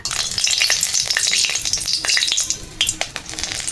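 Dried red chilies frying in oil in a wok, a dense crackling sizzle with sharp pops and spatters scattered throughout, loud and close with no voices.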